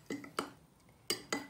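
A spoon clinking against a glass while mixing orange squash with water, four sharp bright taps in two pairs, close and quiet, with soft swishing between.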